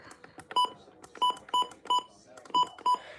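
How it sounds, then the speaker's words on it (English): A new 400 DSP device gives short electronic beeps as its buttons are pressed, six crisp tones in an irregular rhythm, close and moderately loud, with quiet handling noise between them. "the button beeps."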